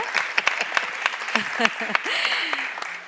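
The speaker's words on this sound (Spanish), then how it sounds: "Podéis dar un aplauso para calentar esto un poquito." A conference audience claps in scattered, separate claps for a few seconds while a voice talks over them.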